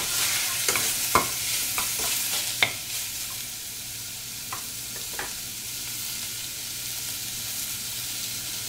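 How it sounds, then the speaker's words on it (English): Meat searing in a hot pot for stew gives a steady close sizzle, broken by a few sharp clinks and scrapes of stirring early on before the frying hiss settles and runs on alone. "you just throw in the meat, and then you want to let that sear"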